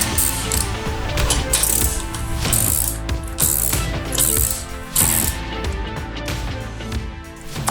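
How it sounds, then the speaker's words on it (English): Ratchet fitted with an 8mm hex socket drives in a frame slider bolt on a 2011-on Kawasaki ZX-10R, producing loud, close, rapid clicking strokes in repeated bursts across several seconds. "I'm switching over to my tool. And for this, I'm using an 8mm hex socket."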